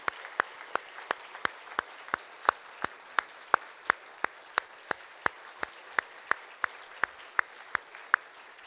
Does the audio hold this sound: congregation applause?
yes